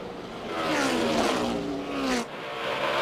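A NASCAR V8 race car roars at Pocono in 2011, with a loud, sustained engine note that climbs and then drops in pitch before a brief dip and recovery, heard alone.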